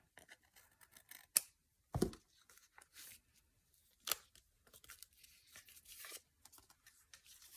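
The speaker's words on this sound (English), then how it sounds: "I'm going to go ahead and trim that one right now." Scissors trimming paper from an envelope pocket, with a few sharp, close snips spaced apart among quiet rustling and handling of the paper.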